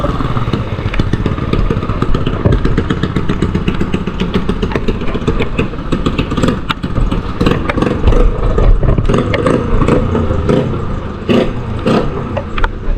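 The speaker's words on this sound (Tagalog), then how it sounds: "Kapaingay ba ng motor na yun?" A loud motorcycle engine roars and revs up close, its rumbling exhaust surging and clattering continuously.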